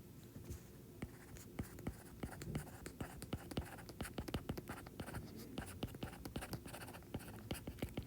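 A pen writes notes by hand on paper, with steady quiet scratching strokes and taps in a continuous rhythm, close and faint, without speech.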